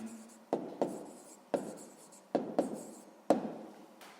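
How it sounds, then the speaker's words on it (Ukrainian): Pen strokes writing out a math answer on paper, several short scratchy bursts in an irregular rhythm, close and quiet, with no talk. "записуємо тоді відповідь, пишемо відповідь"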